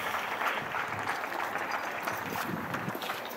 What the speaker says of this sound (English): Can we have a big round of applause for our Armenian caucus